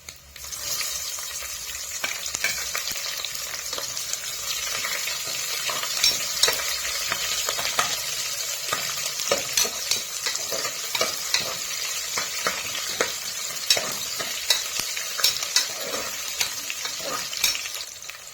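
Steady sizzling of ground spinach frying in a pan, with frequent scraping and clinking as a utensil stirs it throughout.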